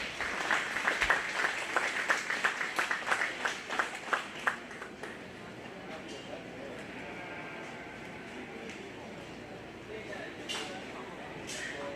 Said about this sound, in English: Let's give these young kids a round of applause.